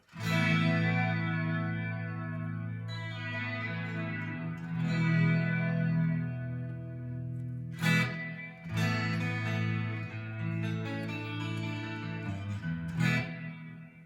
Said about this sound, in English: here's a reverb with a vibrato.